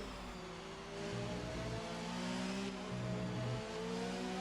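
Race cars circle a circuit in Belgium, their engines holding a steady, distant droning roar with gentle rises and falls in pitch as they rev and shift.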